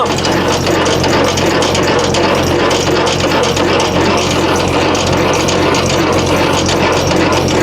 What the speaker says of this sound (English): Wind your landing gear up.